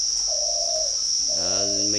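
A spotted dove coos in two drawn-out, low tonal notes close by, over a steady high insect-like whine, with no talking.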